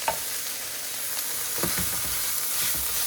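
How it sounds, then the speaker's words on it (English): Spicy tuna filling seasoned with black pepper and turmeric sizzles steadily in a pan, a continuous close frying hiss with occasional soft stirring scrapes and no talking. "While it is frying on the pan"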